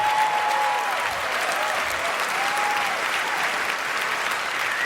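Studio audience at a live comedy taping with Conan's writers bursts into sustained, steady applause that fills the whole stretch, dense and close, with faint crowd murmur underneath and no speech.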